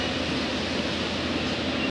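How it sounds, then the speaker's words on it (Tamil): A Tambaram–Salem superfast express train pulls away on schedule, heard as a steady, dense rumble of rolling wheels and carriages with no talking. "ஆன் டைமுக்கு நம்ம ட்ரெயினை பார்த்தீங்கன்னா எடுத்துட்டாங்க"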